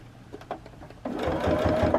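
After a few soft handling taps, a sewing machine starts stitching a fabric table topper, a close, steady, rapid mechanical whir of the needle that runs to the end.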